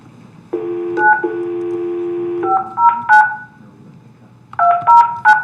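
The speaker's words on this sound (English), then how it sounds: "Because I have to dial 9." Telephone keypad tones ring out over a council meeting room's speakers, a long steady tone followed by several short beeping digit presses in quick succession, loud and clear.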